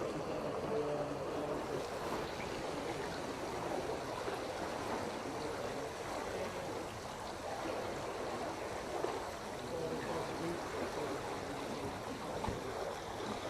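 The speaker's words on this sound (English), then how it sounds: "the sluice gates at the bottom of the top gates have now been opened and the water is coming in from above the gates" Water rushes steadily into a canal lock through opened sluice gates in the upper gates, a constant broadband gush and churn that fills the whole stretch without letup, with no talking.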